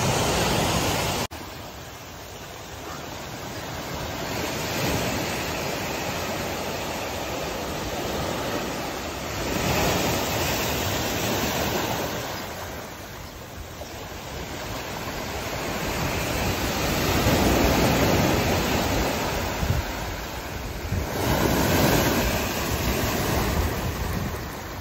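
Sea waves surge against a wall at a rising high tide during heavy monsoon rain, a steady, loud, broadband roar that swells and eases in slow waves with no voices.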